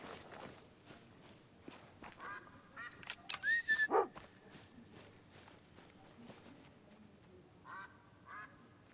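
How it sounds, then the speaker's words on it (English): Wigeon ducks call overhead during a Scottish hunt, their whistling and quacking notes coming in scattered bursts at moderate distance over rustling footsteps and outdoor noise. "Wigeon everywhere above us."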